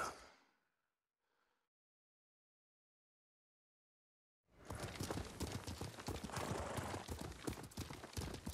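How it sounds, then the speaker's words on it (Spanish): Horse hooves clip-clop in the video game Ghost of Tsushima, a steady loud trot that starts abruptly after a quiet stretch, preceded by a brief faint sound. "Qué buen caballo."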